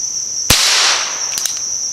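A Ruger Wrangler revolver fires CCI ammunition: one sharp, loud shot near the half-second mark, then a pair of fainter quick cracks, all over a steady high insect-like whine.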